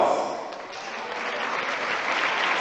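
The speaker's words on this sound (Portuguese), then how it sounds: "Uma salva de palmas." An audience in a school event honoring contest winners claps continuously, a dense, sustained wash of applause from many hands at moderate distance with no gaps.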